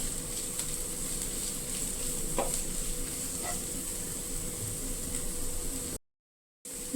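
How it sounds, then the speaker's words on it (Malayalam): Capsicum and sweetcorn masala curry stirred in a pan, a steady close hiss of frying with a few faint spoon knocks, then a brief dropout to silence near the end. "നന്നായി ഇളക്കി യോജിപ്പിക്കുക"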